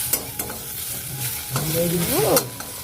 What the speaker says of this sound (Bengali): ঢেঁড়সটা ভাজছি